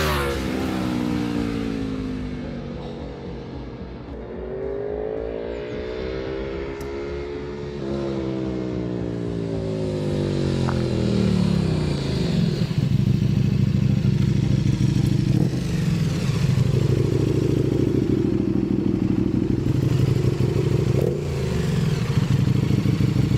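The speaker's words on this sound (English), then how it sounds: "Probably one of the most famous, best sounding bikes in the world, the Tuono V4 with an Acra system." An Aprilia Tuono V4 motorcycle fitted with an Akrapovic exhaust rides past, its engine rising and falling through gear changes into a loud, sustained roar under hard acceleration, with no voices.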